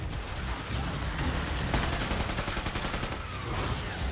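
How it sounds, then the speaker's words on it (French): Dense gunfire and crackling combat chaos fill the zombie shooter Killing Floor 2 as a healing grenade is thrown, a loud continuous rattle of shots with no clear single blast standing out. "Alors c'est parti, je vais envoyer une grenade."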